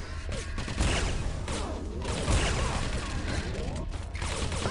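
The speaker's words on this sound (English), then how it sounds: "Who's shooting?" Rapid gunfire and weapon blasts in the arena shooter Quake 3 Arena, a dense, loud barrage of overlapping shots and explosions running continuously with brief dips in intensity.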